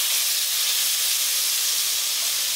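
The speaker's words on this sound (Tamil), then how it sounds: "பூண்டு வந்து நல்லா செவக்க வந்து வதக்கணும்." Garlic sautéing in hot oil in a pan gives a steady, close, hissing sizzle that holds evenly for a few seconds without a break, and no one speaks.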